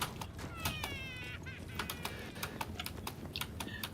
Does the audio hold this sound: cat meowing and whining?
yes